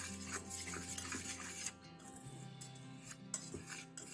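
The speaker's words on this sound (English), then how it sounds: "And we will mix it with the whisker." A whisk stirs baking powder into flour in a bowl for banana pancakes, giving quiet close scraping and tapping strokes against the bowl, soft and irregular with no talking.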